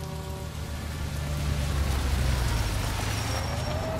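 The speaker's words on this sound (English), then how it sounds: "All right, heavy rain." Heavy rain in the video game L.A. Noire pours as a constant hiss, with a low engine rumble from passing traffic beneath it. It thickens slightly after the first second and then holds steady.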